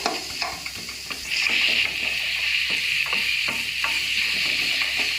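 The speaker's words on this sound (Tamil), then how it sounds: "நல்லா வதக்கணும்" Karunai kilangu (elephant foot yam) sautéing in a pan, a steady close hiss of frying with a spatula scraping and tapping at an irregular rhythm, and no voices.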